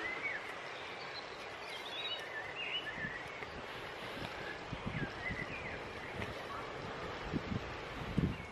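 Wind gusting across an allotment garden, a continuous breathy rush buffeting the microphone with occasional thumps and faint rustling, moderately quiet.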